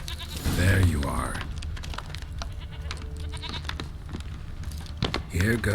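Goat bleats in The Witcher 3, a couple of short nasal cries near the start and again at the end, with game ambience and some speech-like sound between them.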